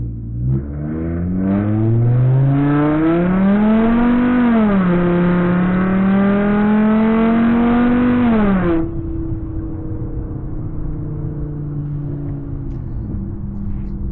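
A tuned Volkswagen Golf Mk6 engine revs loudly, rising in pitch, dipping, then climbing again before cutting back to a steady idle.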